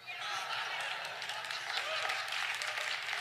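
A church congregation claps during a sermon in Portuguese, producing a steady wash of applause that carries on evenly from start to finish, with some voices mixed into the room.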